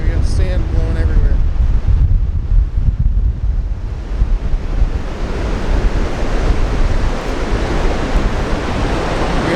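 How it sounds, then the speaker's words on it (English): Strong wind buffets the microphone on a beach beside tide pools as the tide comes in, a steady loud roar of gusts and surf-like rushing noise throughout, with no break. "There we go, sand blowing everywhere."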